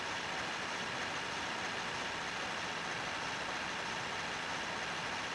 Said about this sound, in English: The droning of the engines is a truly horrible noise.